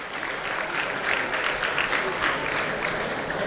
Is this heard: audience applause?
yes